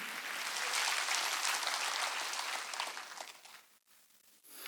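Congregation applause during a Sunday church service, a soft, distant wash of many hands clapping that swells, then thins and tapers away with a brief dip before a faint pickup at the end.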